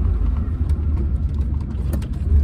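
Toyota Corolla KE70 with a modified 3T engine and no rev limiter, held at a steady low, rumbling drone near by, the exhaust note pulsing evenly without dying away.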